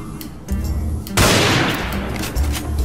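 Gunfire in a video game: a sharp, loud shot opens a dense blast that decays over about a second, with lighter shooting sounds before and after it, close and prominent.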